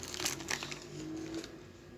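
A plastic bag of burger seasoning mix crinkles in short, close crackly bursts, then settles into quieter rustling, with no talk.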